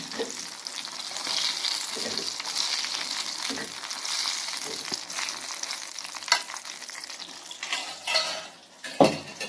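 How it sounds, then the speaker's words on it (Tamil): Brinjal sautéing with salt in a pan: a continuous close frying hiss with soft repeated stirring scrapes, then a few louder spoon knocks against the pan near the end, no speech. "நல்லா உப்பு போட்டு இந்த அளவில் நல்லா வதக்கிடுங்க"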